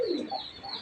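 Pigeons kept for sale cooing up close, a short throaty coo with a quick rising call and faint chirps around it, no voices.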